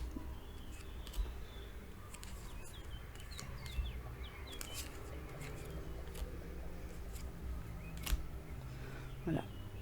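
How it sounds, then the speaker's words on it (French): Outdoor ambience with scattered faint seagull calls, plus occasional clicks and handling noises over a steady low rumble. "On entend les mouettes, hein, je suis désolée."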